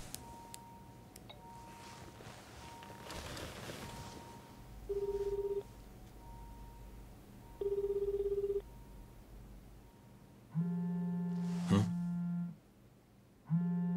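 Phone ringing inside a room in the video game Judgment, heard as repeated electronic ring bursts that grow louder and longer toward the end, over a low background hum.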